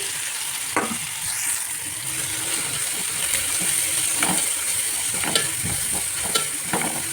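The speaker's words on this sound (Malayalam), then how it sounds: "ഉള്ളി ഇതിനകത്തേക്ക് ഇടാം." Finely sliced onions sizzle in hot oil for Kozhikodan chicken biryani, a steady broadband fry with a few scrapes of stirring scattered through, close and continuous with no talk.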